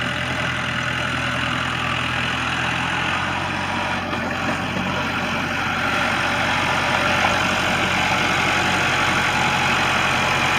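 A 1990 Case 585 tractor engine runs loud and close, a steady mid-pitched diesel drone that holds even throughout with no voices over it.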